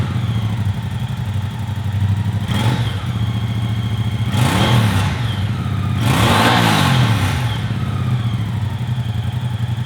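A Moto Guzzi V100 Mandello S twin-cylinder motorcycle engine runs close by with a low, pulsing thump, revving up briefly a couple of times.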